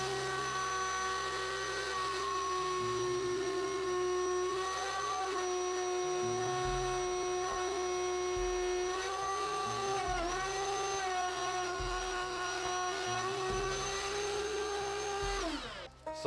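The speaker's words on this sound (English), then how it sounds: "So let me show you a plunge cut." A saw runs steadily through scrap wood for a plunge cut, a loud sustained whine with a shifting low rumble underneath, holding for about fifteen seconds before winding down abruptly at the end; no one speaks.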